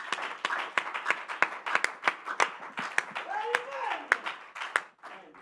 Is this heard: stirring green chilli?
no